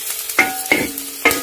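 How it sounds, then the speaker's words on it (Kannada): Onions for chutney frying in a pan, a continuous close sizzle punctuated by three distinct scraping stirs of a spatula against the metal, fairly loud. "ಇನ್ನೂ 1 ನಿಮಿಷ ನಾನು ಇನ್ನೂ ಒಂದು ಸ್ವಲ್ಪ ಚೆನ್ನಾಗಿ ಮಾಗಿಸ್ಕೋತಾ ಇದ್ದೀನಿ ಇದನ್ನು"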